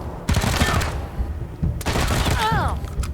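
Gunfire from a shootout in the Wasteland 3 video game comes in two loud bursts of rapid shots, mixed with game effects and a brief voice.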